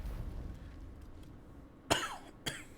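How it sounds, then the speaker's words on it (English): Two sharp coughs from a person close to the microphone, the second softer, breaking through low background hum after a quiet stretch. "Gonna try and not cough too much."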